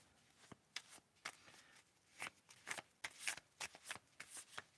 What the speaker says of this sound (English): And let's do some shuffling here.